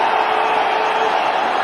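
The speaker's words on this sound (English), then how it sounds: "Listen to the roar here at Eden Gardens" A cricket crowd roars at Eden Gardens stadium during an India vs Australia one-day international, a loud, continuous wall of cheering and whooping that holds steady throughout.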